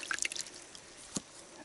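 Water dripping among volcanic rock, a few quick bright drips close together early on, then a single clearer drop after a pause, faint and alone.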